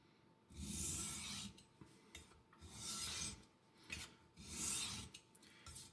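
A Victorinox paring knife is stroked across a coarse/fine DMT diamond plate, producing three long, steady rasping passes with brief pauses between them, close and clear with no talking.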